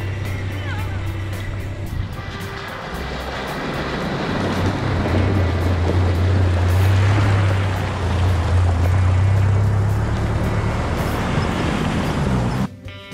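Vehicle pushing through a muddy creek on an outback Australian track, a low engine drone swelling as water and mud wash and churn around it, with a voice talking briefly near the start.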